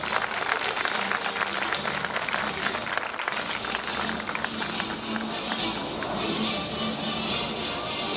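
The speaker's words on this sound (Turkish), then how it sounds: "Yürekten alkışlıyoruz arkadaşlarımızı." Loud, continuous applause from a large crowd at a high school graduation ceremony in Turkey, a dense wash of clapping that holds steady for the whole stretch with no voices over it.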